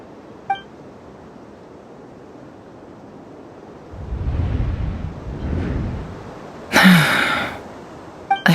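Yehoda, a Genshin Impact character, lets out one sharp gasp near the end, loud and brief, over a soft windy, surf-like ambient bed with a low rumble swelling in the middle.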